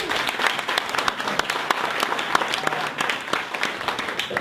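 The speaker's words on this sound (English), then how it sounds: "let's give Al a big round of applause" An audience applauds a speaker at the close of a marketing talk on the non-profit, educational and public sector, with dense, steady clapping that keeps going at a fairly loud level from start to end.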